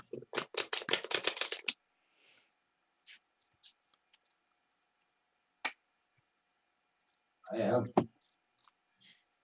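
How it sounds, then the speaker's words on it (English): A quick burst of sharp knocks on a deck of tarot cards at the start, then scattered soft taps and clicks, with a brief shuffling rustle near the end. "So the way I make sure my cards are cleansed is I actually knock on them."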